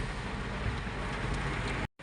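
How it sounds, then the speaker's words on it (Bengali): Heavy rain pours onto a car while it is heard from inside, a dense, loud, continuous wash of noise that cuts off abruptly at the end. "গাড়ির মধ্যে বৃষ্টি পড়ছে প্রচুর বৃষ্টি হচ্ছে এদিকে"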